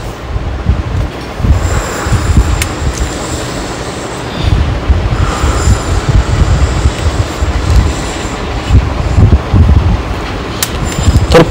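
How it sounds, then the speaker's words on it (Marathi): A ropeway car descends the mountainside at Saptashrungi Gad, giving a steady mechanical rumble and rolling drone with faint squeals, fairly loud and continuous with no one talking. "तर आता ही ट्रेन खाली येते आहे"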